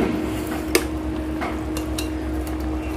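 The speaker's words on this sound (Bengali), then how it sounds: "খুন্তি দিয়ে একটু নেড়ে দিই" A metal spatula stirs boiling potatoes in a pan on a stovetop, giving one sharp scraping clink and a few softer scrapes over a steady burner hum.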